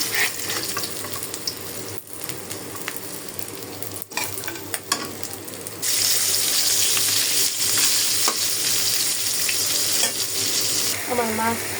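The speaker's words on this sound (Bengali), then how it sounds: "রুই মাছ ভাজি করে নিতেছি" Rohu fish fries in a pan with a steady, close sizzle that grows louder and denser about halfway through, with stirring and scraping sounds over the hiss of the oil.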